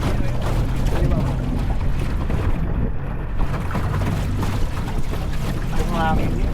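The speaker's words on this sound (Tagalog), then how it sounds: "Ang hangin yun." Steady wind roars across the microphone during a boat ride on Dalrymple Lake, a constant broadband rush with engine and water noise beneath, and people talking over it.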